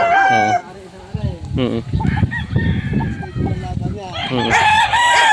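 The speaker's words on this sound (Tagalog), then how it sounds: "Ito yung mga manok ni Kuya." Roosters crowing loudly and close, several drawn-out calls at the start and end with clucking hens and other farm sounds in between.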